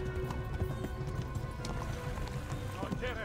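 A horse galloping in the video game Kingdom Come: Deliverance, rapid hoofbeats with a short whinny near the end, played under steady background game sound.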